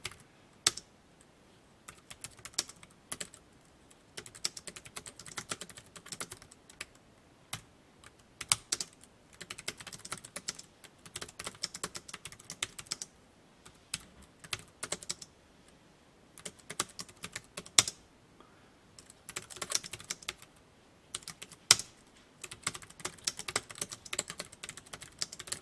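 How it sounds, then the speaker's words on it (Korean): Steady bursts of typing on a computer keyboard during a word-processor exam exercise, irregular rapid clicks with short pauses, fairly close and alone without talk. "타이핑 치겠습니다"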